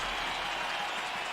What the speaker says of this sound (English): let's hear a big round of applause for the victors